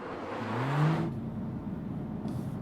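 A 2020 Mercedes-AMG A45 S with its turbocharged engine rises in a short, sharp rev that climbs in pitch and then drops back to a rough idle, heard close and alone.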